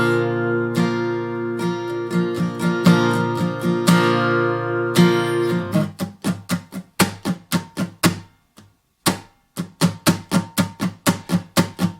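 Relaxed acoustic guitar strumming for a bluesy, soulful song: sustained ringing chords for the first six seconds, then a steady run of crisp, evenly spaced strokes, close and clear with no voice.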